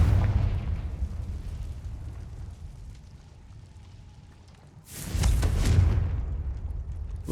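Fire spell explosion in Hogwarts Legacy: a rumbling game soundscape is suddenly broken by a loud, bright burst with a crackling tail that fades over about a second.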